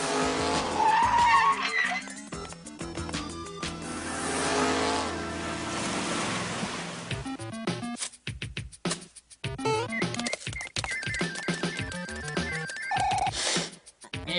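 Cartoon car skids past in a Super Mario Bros 3 scene, tires squealing against a busy mix of music and effects, loud bursts broken by short gaps.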